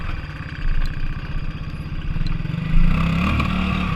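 A TGB 500 quad's engine runs close by off-road, a low throbbing idle with a fast rhythmic pulse that rises into a revving surge about midway and then holds steady.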